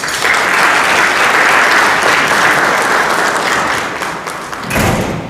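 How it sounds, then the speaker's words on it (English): An audience in a hall applauds new inductees at the SIAC Hall of Fame induction, a loud, dense burst of clapping that holds steady for several seconds before briefly dipping and rising again. "let's give them a round of applause"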